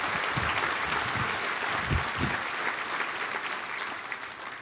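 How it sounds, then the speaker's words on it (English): Audience at a law enforcement awards ceremony clapping for the nominees, a steady wash of applause from a moderately sized crowd heard from some distance, with a few sharper claps standing out. "A round of applause for all the nominees."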